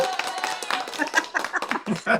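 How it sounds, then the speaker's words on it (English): A recorded clap track of applause plays during a church mentoring event, its claps light and irregular over tonal background sound, with a burst of louder claps toward the end. "You guys hear that clap track?"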